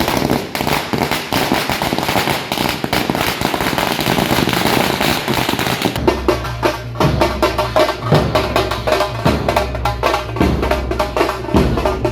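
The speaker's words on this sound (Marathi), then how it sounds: "ठिकठिकाणी फटाक्यांच्या आतिषबाजी करून नागरिकांनी त्यांचं स्वागत केलं" Firecrackers burst in rapid, dense volleys during a street procession welcoming a political candidate, a loud, continuous rattle of sharp pops with deep thuds and drumming in the second half.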